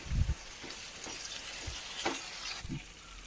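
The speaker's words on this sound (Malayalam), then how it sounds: "ഒരു 2-3 മിനിറ്റ് ഒന്ന് തിളച്ചോട്ടെ അതിൽ കിടന്നിട്ട്" Fish pieces simmer in a thick masala for biryani with a soft, steady bubbling sizzle and a few faint stirring knocks, close and fairly quiet, with no voices.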